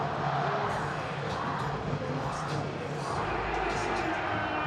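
Steady, broad roar of a baseball stadium crowd applauding a catch in foul territory near the fence during an NC vs LG game, dense and sustained throughout with no voices standing out.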